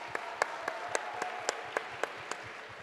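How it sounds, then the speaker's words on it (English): Audience applause at a Pirates of the Caribbean convention panel, heard as a faint, thin patter with a few distinct claps standing out at an even pace over steady background noise. "give him a round of applause"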